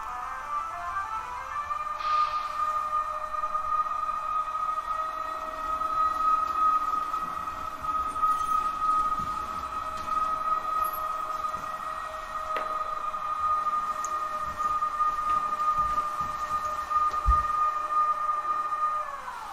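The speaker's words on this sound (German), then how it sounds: "Am Ende des Bahnhofs macht sich nun eine abgestellte ÖBB-Taurus-Lok der Reihe 1116 von Märklin auf den Weg" Märklin H0 model ÖBB Taurus class 1116 electric locomotive running on a layout toward parked Eurofima coaches, a steady whining motor hum with faint rolling track noise throughout, close and continuous.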